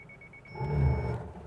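A 2018 Subaru Impreza backs up as reverse automatic braking engages: a brief low rumble swells and fades, with a faint, thin high warning tone held above it, no talking.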